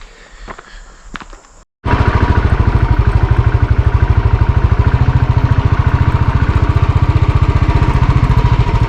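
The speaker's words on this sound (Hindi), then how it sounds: "अभी मुझे यहीं से बाइक लेके जाना है" A motorcycle engine starts up and runs near Chail in Himachal Pradesh, a loud, close, steady chugging idle after a brief stretch of quiet rustling.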